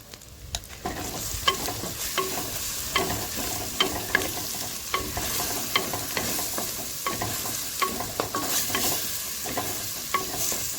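Onions, turmeric and Kashmiri chili paste fry for a Godavari-style crab curry, giving a continuous sizzle with frequent sharp clicks and taps from stirring in the pan.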